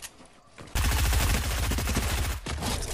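SMG fire in Fortnite erupts after a brief lull, a loud rapid stream of shots that runs unbroken for nearly two seconds and then gives way to further, slightly quieter gunfire.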